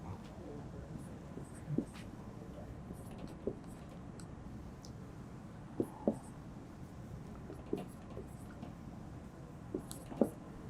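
Hand-writing of a lower triangular matrix in a linear algebra lesson: soft, sparse marker or pen strokes with occasional sharper taps, faint and close against a quiet room.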